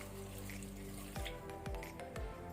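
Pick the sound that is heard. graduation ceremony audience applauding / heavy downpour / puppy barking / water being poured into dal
water being poured into dal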